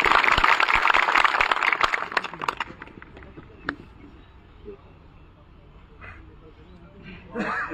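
Crowd applause for two young supporters at a Gurjar community political gathering in Chhabra, loud clapping that fades over a few seconds, followed by scattered noise and quiet.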